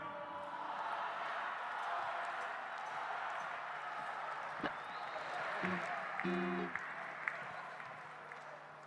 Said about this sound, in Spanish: Muchas gracias por sus aplausos.